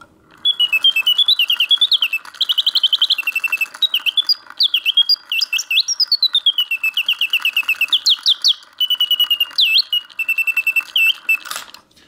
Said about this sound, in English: The bird sings with full voice, hitting all the proper oscillating notes, yet the mechanism runs smooth and quiet.